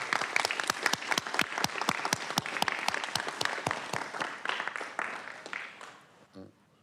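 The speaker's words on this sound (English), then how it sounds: "Let's give them a big round of applause" An audience at a Fulton County Board of Commissioners meeting claps steadily for several seconds, the sharp, fairly close applause thinning out and dying away near the end.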